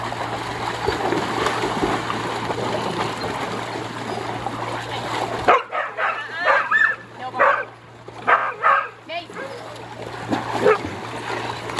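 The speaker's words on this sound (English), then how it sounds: "screech when she barks." A dog lets out sharp, high, excited barks in several bursts, close by, with splashing water and background noise in between.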